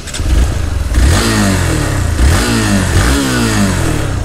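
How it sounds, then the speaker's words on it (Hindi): Exhaust note of a 2023 Hero Xpulse 200 4V single-cylinder adventure motorcycle, close up and loud, with repeated throttle blips that rise and fall in pitch above a rumbling idle. "पहले मैं आपको बाइक का एग्जॉस्ट नोट सुना देता हूँ।"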